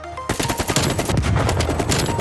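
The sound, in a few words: AK rifle gunfire in video game Black Ops Cold War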